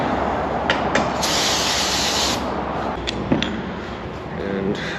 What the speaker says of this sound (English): Brake clean, spray it off.